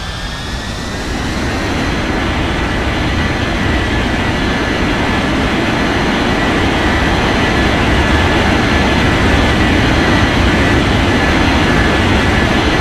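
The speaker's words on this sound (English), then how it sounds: "Arabia 3033, cleared for takeoff runway 20" Airliner taking off from runway 20 at Bengaluru airport, a loud, steady jet engine roar with a rising whine that holds throughout, with no voices over it.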